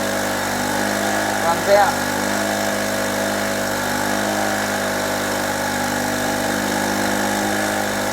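A petrol generator runs steadily under a 500 watt lamp load, a continuous even engine drone throughout with someone talking briefly over it near the start.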